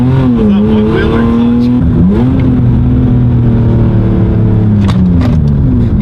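A $500 BMW E36 drift car with its engine revving hard and loud, a strong droning pitch rising and settling repeatedly, up close and steady throughout.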